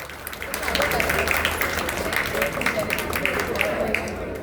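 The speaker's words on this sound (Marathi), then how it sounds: "त्या सर्व यशस्वी आणि ऊर्जावान व उत्साही कलाकारांचे आपण टाळ्या वाजवून पुन्हा एकदा अभिनंदन करूया" Audience applause for the cast of the Marathi play "Khandobache Lagna" at an apartment-complex Ganeshotsav celebration: dense, steady clapping from a crowd that holds at an even level throughout.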